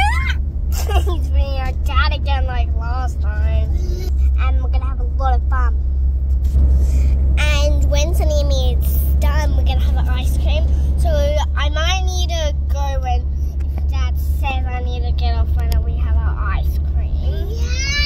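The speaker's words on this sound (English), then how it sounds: "Driving the car." A car's deep, constant road rumble fills the cabin throughout the drive. A dad and his kids talk steadily over the engine and tyre noise.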